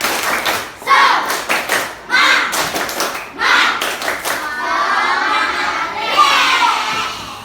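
Schoolchildren in a classroom perform the tepuk semangat clapping chant, bursts of rhythmic hand claps and thumps in quick groups, separated by short pauses, with children's voices mixed in and a noisier stretch toward the end.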